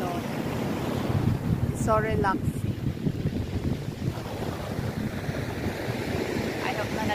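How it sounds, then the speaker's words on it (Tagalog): Sea waves roll in against the shore beside a beach cottage, a steady broadband wash with gusts of wind noise on the microphone and brief bits of voice and high chirps near the middle. "Alon. Dagat na hindi pwedeng langoyin."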